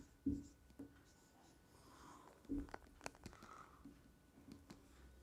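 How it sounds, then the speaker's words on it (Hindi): A pen or marker writes notes during a semiconductor lecture, with quiet, irregular scratches and taps and a few sharper strokes in a hushed room. "तो हम इसको लिखेंगे अब"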